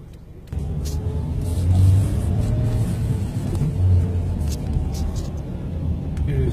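A Porsche roars past a Corolla on the road and pulls away, its engine rumble swelling and fading. The sound is loud and close with steady road noise underneath, and there is no talk.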